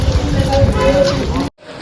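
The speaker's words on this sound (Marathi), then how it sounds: "खूप पाऊस आहे" Heavy rain pours outside the Mahalakshmi temple in Kolhapur, a loud dense wash close to the microphone with voices talking through it, ending abruptly.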